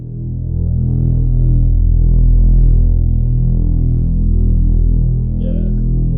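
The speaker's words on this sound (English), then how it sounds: "we add a little distortion to this as well." A low, thick synth tone with added saturator distortion drones steadily, loud and buzzing with harmonics, sustained alone for several seconds.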